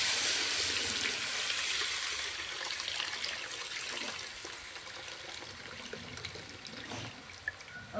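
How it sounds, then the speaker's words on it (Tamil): Tamarind water pours steadily into fish curry in a pot over a wood fire, a continuous close splashing trickle that gradually softens, with faint sizzling underneath. "வந்து புளி தண்ணி ஊற்றிக்கலாம்"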